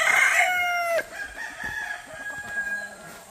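A rooster crows once, close and loud, in a rural Philippine province, its call ending after about a second, followed by quieter background sounds.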